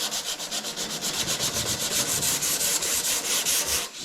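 A wooden cup being sanded with 180 grit paper, a fast even scrubbing rhythm of many short strokes, close and steady, pausing briefly near the end.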